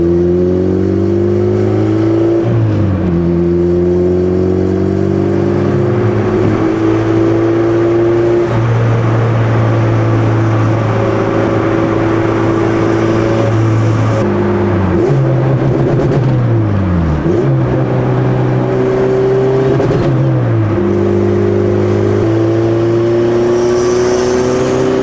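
A turbocharged B18C Honda Civic on slicks roars through repeated revs during roll racing, the engine tone climbing and dropping in loud stepped sweeps, breaking up and hitting a limiter; close, continuous and with no talking.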